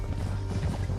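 Horses gallop in Red Dead Redemption 2 during a canyon chase toward a rope bridge, a brief, dense thudding of hooves close by amid rumbling game action.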